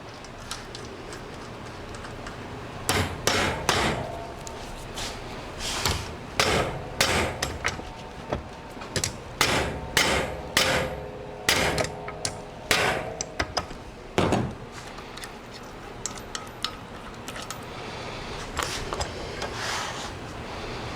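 A hammer taps bolts out of a Harbor Freight 1500 lb aluminum ATV and motorcycle lift jack, sharp metallic strikes coming in irregular clusters of two or three, close and clear with quiet pauses between.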